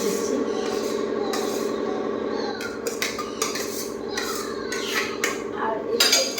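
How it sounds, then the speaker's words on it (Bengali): Rice going into a cooking pot in a home kitchen, heard as a steady metallic scraping and clinking of cookware with brief rattling bursts, close and continuous throughout. "ডেক্সিতে চাল বসে দিচ্ছি।"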